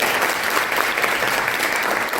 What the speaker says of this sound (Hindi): उनके लिए ताली बजा दो एक बार अच्छे से।